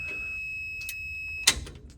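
A truck's warning tone, linked to the neutral safety switch during gear shifting, sounds as a steady high beep. It cuts off after about a second and a half and is followed by a brief mechanical clunk.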